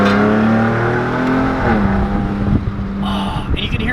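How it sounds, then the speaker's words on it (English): A 2020 Ford Raptor fitted with an X pipe rumbles loud and close under steady engine drone, with sharp crackling backfire pops and turbo whoosh near the end. "oh, it's doing the backfires all the time."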